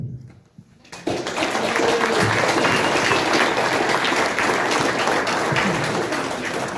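Sustained applause from a room full of people at a county clerk candidate debate, dense steady clapping that starts abruptly after a brief quiet moment and keeps going.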